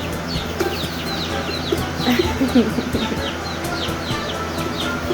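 Chickens cluck and chirp in a busy outdoor setting, with a few brief wing flaps and steady background noise throughout.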